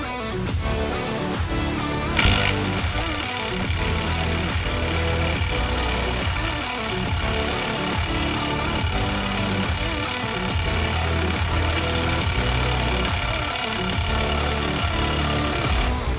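A Metabo cordless impact wrench strains to loosen a bolt tightened to about 245 newton-metres, a loud continuous rapid hammering that runs steadily for the whole stretch without letting up.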